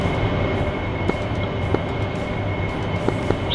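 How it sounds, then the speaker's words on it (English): A train rumbles steadily inside DCS World while an AV-8B Harrier flies alongside it, a continuous low rolling drone with faint periodic clicks like wheels crossing rail joints. "Just following the train a bit here"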